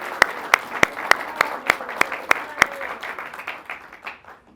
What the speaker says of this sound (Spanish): Sí, un aplauso para